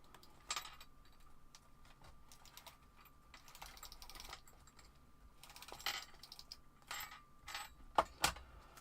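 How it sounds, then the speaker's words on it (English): A tape runner is used on Christmas-patterned craft paper for an advent calendar, giving faint, scattered clicks and short rasping ticks in a quiet room, with two sharper snaps near the end. "It looks like the tape runner will work."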